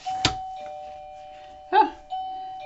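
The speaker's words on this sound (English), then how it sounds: "that's the doorbell" A doorbell chimes indoors, a clear ringing tone sounding once near the start and again later as a second ding, with a faint hum in between.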